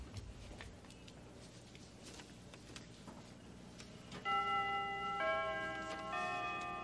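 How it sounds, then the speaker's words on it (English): Chiming tones ring out after a few seconds of faint ticking, a bright multi-note doorbell melody sounding clearly with no talk over it. "Have you heard Oscar's new doorbell?"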